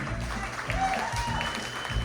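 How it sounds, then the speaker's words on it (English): A crowd at a Tejano awards ceremony claps in a short, steady burst of applause, heard from within the room. "I'll give a big round of applause for them."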